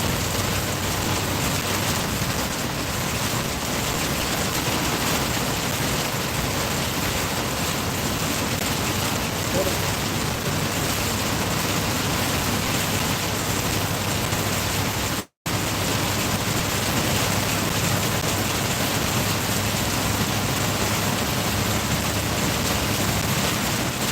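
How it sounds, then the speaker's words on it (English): Heavy rain pours down in a steady, loud, unbroken hiss that fills the whole stretch, with one momentary dropout partway through and no voices. "it is raining cats and dogs"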